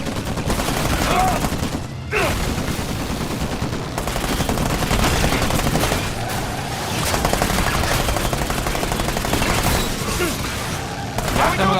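Dense, continuous bursts of automatic gunfire from the video game Uncharted 4: A Thief's End rattle almost nonstop, loud and close, with a brief pause near the start and voices faintly mixed in.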